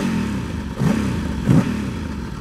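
A Ducati 1000DS Multistrada motorcycle engine runs close by with a steady low rumble, rising in two short throttle blips about a second apart before settling back to idle, with no voices over it.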